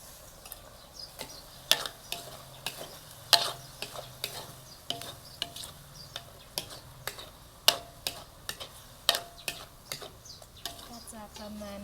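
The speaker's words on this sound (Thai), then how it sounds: "คนให้เข้ากันค่ะ" Mushrooms stir-fried Shan style in a pan are stirred with a utensil, giving a steady run of sharp scrapes and clacks against the pan over a soft, faint sizzle.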